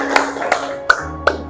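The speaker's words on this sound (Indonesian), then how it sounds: "boleh tepuk tangan buat kalian semua" A few students clap in a classroom, four separate sharp claps spaced about a third of a second apart, close and loud, with a faint tone running under them.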